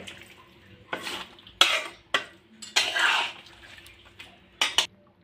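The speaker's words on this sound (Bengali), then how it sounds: "দেশি মুরগির মাংস রান্না করবে ভালোভাবে নাড়াচড়া করে নিচ্ছে মশলাগুলো যেন সব মাংসের গায়ে লেগে যায়" Country chicken meat and spices being stirred in a cooking pot, giving scattered bursts of scraping and clinking at an irregular pace, close and moderately loud with quiet gaps between.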